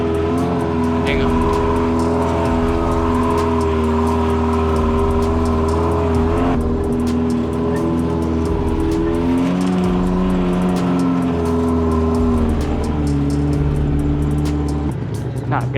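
A small car drives along a narrow, challenging road in Bali, its engine giving a steady, unbroken drone with shifting pitch as it works through the route, close and continuous throughout.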